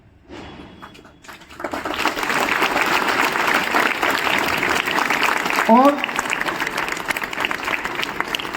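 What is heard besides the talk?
audience clapping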